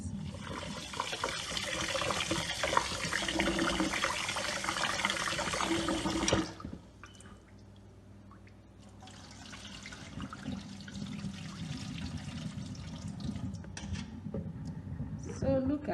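Settled water is poured off corn paste in a steady, rushing stream, pauses briefly, then resumes as a softer continuous trickle.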